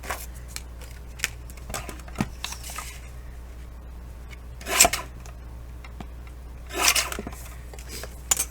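Scissors cutting a paper junk mail tag up close, with quiet snips and paper rustles and two louder crisp cuts spaced a couple of seconds apart, over a low hum.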